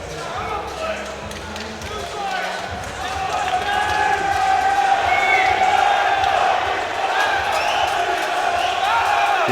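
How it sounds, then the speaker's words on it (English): A crowd at an Ambition Fight Series bout roars for hometown fighter Danny Anderson, a continuous loud swell of cheers and shouts building in the arena, with a commentator talking over it. "can hear the crowd here"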